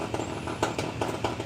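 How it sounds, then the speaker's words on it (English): A drag racing motorcycle with a Nick Woods engine at the FIA/FIM Euro Finals 2025, heard as faint, distant bursts of engine noise that pulse irregularly over a quiet background. "The unmistakable sound of the Nick Woods engine"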